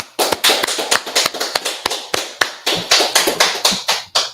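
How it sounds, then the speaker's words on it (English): A ballroom audience claps in a loose rhythm, each sharp clap standing out clearly and closely spaced. The claps land in uneven bursts with brief pauses between them. "All right, let's clap it up."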